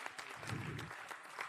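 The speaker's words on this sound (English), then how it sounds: "That deserves a big round of applause," An audience applauds at a junior chef competition grand finale, with a steady patter of clapping at moderate distance and a faint voice underneath.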